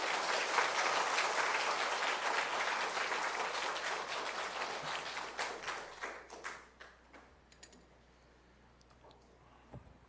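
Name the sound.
church congregation applauding to welcome a guest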